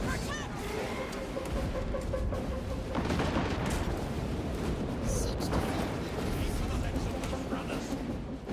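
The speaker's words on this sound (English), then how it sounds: "I use a grenade launcher on this." Grenade launcher blasts in Space Marine, booming explosions and heavy weapon fire mixed into a loud, continuous battle din with game voices over it.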